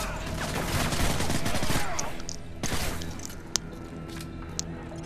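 Dense, rapid gunfire crackles loudly for a couple of seconds in Modern Warfare 3, then thins out into scattered shots and sharp single bangs amid game background noise.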